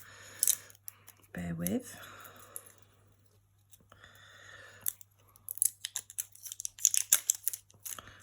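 Polar bear washi tape being unboxed, its packaging opened with crinkling, tearing and snipping sounds in irregular close bursts, some loud, while a person speaks briefly.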